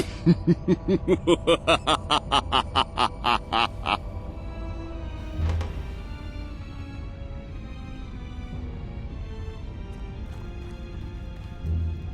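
Chickens in the video game Fable 3 cluck in a quick, regular run of about a dozen calls, then fade into a low ambient drone with an occasional soft thud.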